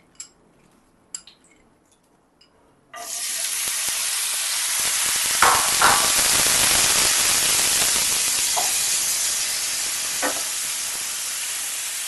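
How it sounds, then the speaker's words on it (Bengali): Bitter gourd coated in salt and turmeric drops into hot mustard oil, setting off a sudden loud, steady sizzle and hiss that continues with a few brief spatters and clinks. "উচ্ছেটা ভালো করে নুন হলুদ দিয়ে মেখে নেব, নিয়ে তেলে ছেড়ে দিচ্ছি"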